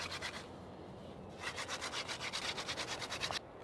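A wooden hand drill spindle spun between the palms against a wooden fireboard for friction fire, a soft scraping rub that turns into quick, even back-and-forth strokes, close and alone.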